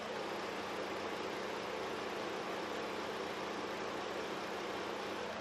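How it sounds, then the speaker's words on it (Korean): Steady, quiet hum of a Ford Explorer engine idling, with a faint low drone under a constant hiss and no other sounds. "바로 엔진 소리 한번 들려드릴게요."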